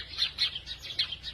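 Sparrows chirping outdoors in short bright bursts, several quick tweets repeating about every fifth of a second, fairly close and clear over a quiet background.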